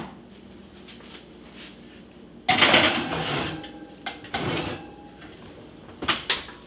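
A Christmas ham goes into a home oven: a sudden loud clatter of the rack and pan sliding in, then further knocks and a final thud as the oven door shuts, close up and without talk.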